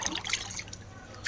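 Water trickles steadily from a municipal government tap in Kakinada, a thin continuous splashing stream heard up close for a brief moment, with no voices.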